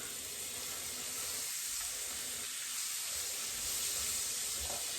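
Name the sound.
bacon sizzling in a frying pan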